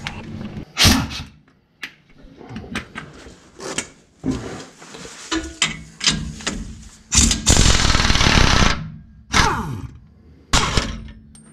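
Impact wrench blasting U-bolt nuts off the axle of a Chevy C10 truck in a shop, repeated short loud rattling bursts separated by pauses, clanks and handling noise.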